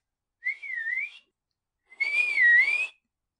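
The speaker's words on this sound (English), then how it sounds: "whistles twice, desperately." Two separate whistled notes, each a wavering pitch rising and dipping, the second longer and louder, with a brief silence between them.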